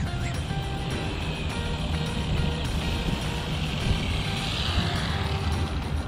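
A Wltoys 124019 RC car fitted with a 6900KV motor accelerates hard on a speed run, giving a loud, continuous high-pitched electric whine with dense wind and road rush that holds steady throughout.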